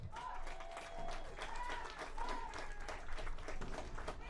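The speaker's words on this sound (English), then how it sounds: "give her a big round of applause" Crowd applause for the homecoming queen at a high school football game, scattered clapping and faint cheering from stands, distant and fairly quiet, with a whistle-like tone drifting over it.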